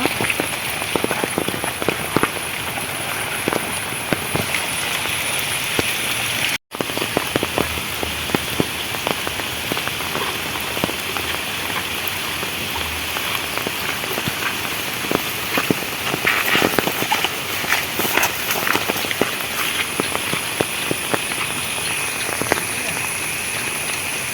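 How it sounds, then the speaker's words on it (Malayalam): Heavy rain pours down at night, a loud unbroken hiss of drops striking surfaces nearby, with a brief dropout partway through and no talking. "മഴ നന്നായിട്ട് വരുന്നുണ്ട് രാത്രി ആ മീൻ കിട്ടുമെന്ന് പ്രതീക്ഷ"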